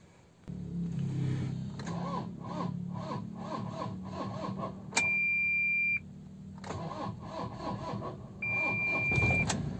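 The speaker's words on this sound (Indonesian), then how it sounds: "Baterainya udah kurang kuat lagi untuk starter" Toyota Fortuner starter cranking on a weak battery, a slow, labored rhythmic churning repeated in several attempts, broken by brief beeping tones from the vehicle.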